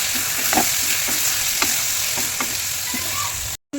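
Small fish curry with tomato and potato sizzles and fries in oil in a rustic village kitchen, a loud steady crackle with a few soft stirring clinks, ending abruptly in a brief cut, no voices.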